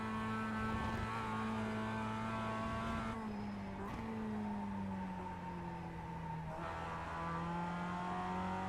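Mustang FR500S race car lapping the Winton circuit, its engine heard from inside as a loud continuous drone that rises in pitch under acceleration, drops through a gear change and then climbs again.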